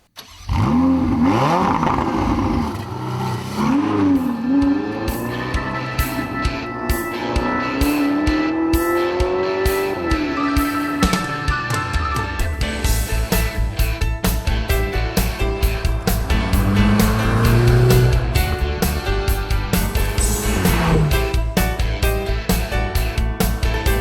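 A turbocharged Ferrari 488 Spider engine revs hard through rising gear changes, roaring up and dropping between shifts, then settles into a loud, steady drone at speed.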